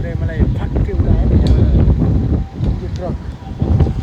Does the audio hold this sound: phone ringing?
no